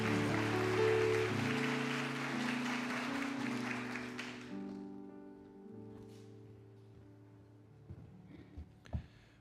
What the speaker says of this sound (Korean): 우리 박수로 크게 환영합니다.